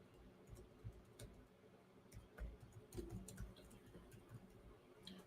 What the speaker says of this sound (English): So I'm typing in show me different